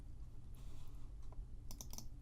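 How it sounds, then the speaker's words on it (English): Keys tapped on a computer keyboard, including the delete key, a few soft clicks followed by a quick burst of three sharper close presses over a low background hum. "selecting the box and hitting delete."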